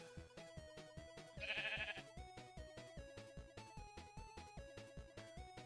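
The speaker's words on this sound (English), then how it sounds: "Hello, sheep." A Minecraft sheep bleats in a short burst, heard over steady, rhythmic background game music that carries on around it.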